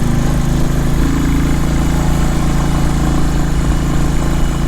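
A motorcycle with dual-channel ABS runs with a steady, loud, close engine drone that holds an unbroken even tone throughout, with no voices.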